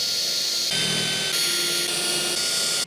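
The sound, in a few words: drilling small pilot holes in truck tailgate metal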